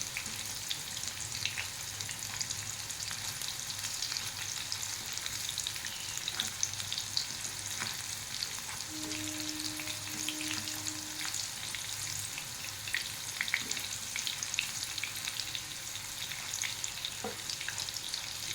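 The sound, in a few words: chicken kurkure pieces frying in oil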